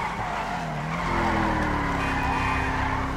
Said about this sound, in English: We're just doing some drifting.